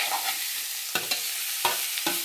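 Onions and other ingredients are stirred in a hot frying pan, with a constant close sizzle and three or four brief scraping strokes of the spoon against the pan, without talk.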